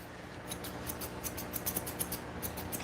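Grooming scissors trimming a dog's coat in a grooming session, a steady run of rapid, close metallic snips repeating at an even pace with no talk.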